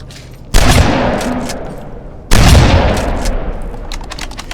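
Turret gunfire in a Terminator video game sounds as two loud, sudden bursts of shots, each opening with a heavy blast and then a rattling, decaying tail.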